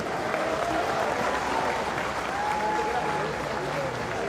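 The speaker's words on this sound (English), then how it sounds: "let's have a nice round of applause for both warriors, please" Steady, sustained applause from a large crowd at a fight event at the Miami-Dade County Fair and Expo Center, dense and continuous clapping throughout with no break.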